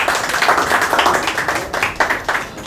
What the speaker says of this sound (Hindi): जोरदार तालियों से उनका स्वागत करना चाहूँगा मैं।